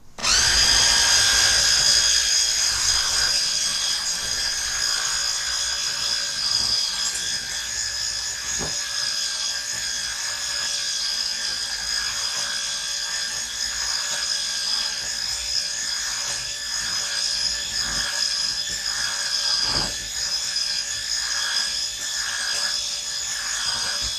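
An electric hand mixer whirs continuously through dough, a steady high motor whine close by with a few soft knocks as the beaters touch the bowl.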